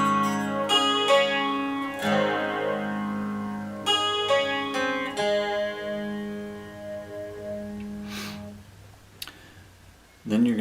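Electric guitar playing the slow opening part of a song: ringing picked notes and chords that sustain and overlap, then fade out near the end.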